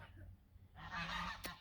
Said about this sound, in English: Don't mind the geese, they're going crazy there